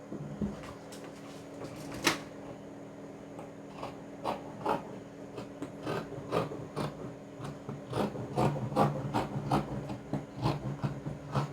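Scissors cutting out fabric for a half circle skirt, a run of soft crunching snips and rubbing scrapes that grow quicker and denser toward the end, close and fairly quiet with no talk.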